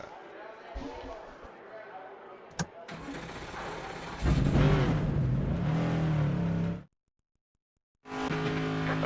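Simulated NASCAR Next Gen race car engine from the NASCAR 25 video game at Sonoma, revving and shifting through gears with a sharp cutoff into silence before the engine note returns, loud and close with speech mixed in.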